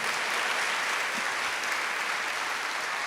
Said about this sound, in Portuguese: Merece uma salva de palmas ou não merece?